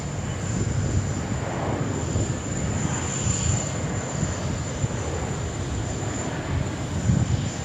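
A Jetstar airliner, flight 913 in a special livery, at Sydney Airport, producing a continuous, moderately loud engine roar with a thin high whine running steadily throughout.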